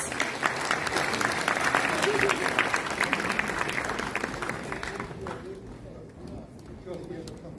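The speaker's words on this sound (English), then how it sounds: "Another big round of applause" Sustained audience applause at a youth festival prize distribution ceremony in Kohima, dense and steady clapping that gradually thins toward the end, with scattered voices mixed in.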